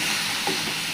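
Tomatoes fry in a pan with ginger, cumin paste and garam masala paste, giving a steady, close sizzle and hiss that runs unbroken and fairly loud with no talk over it.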